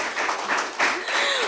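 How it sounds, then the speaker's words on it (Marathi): Applause from an audience at a book launch celebration, with clapping that rises and dips in bursts under some faint voices and a brief whistle-like tone near the end. "एकदा आपण टाळ्या वाजवून त्याचा आनंद साजरा करूया"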